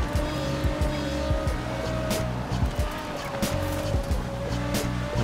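In-game race cars in Forza Horizon 4, including an Aston Martin, roar at steady high revs with repeated tire squeals and skids, loud and continuous.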